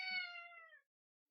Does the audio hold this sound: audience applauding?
no